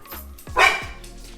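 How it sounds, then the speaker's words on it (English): Dogs bark in a few sharp, close yips and woofs, with a short burst of louder barking in the middle and no talking. "My dogs are going nuts."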